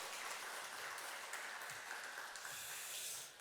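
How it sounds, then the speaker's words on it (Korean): A church congregation applauds at a Sunday service, a soft, continuous patter of many hands clapping at a distance, fading slightly at the very end. "수고하셨습니다. 우리 박수 해주세요."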